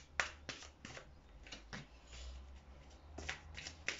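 Tarot cards being shuffled and drawn for a reading, a run of crisp riffling bursts and soft slaps at close range, quiet and isolated with no talking.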